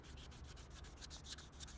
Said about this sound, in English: You want to take your time when you're sanding.